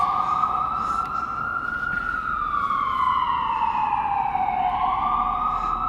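A street siren wailing, slowly rising and falling in pitch, heard from indoors through a building over steady traffic noise, moderately loud and continuous.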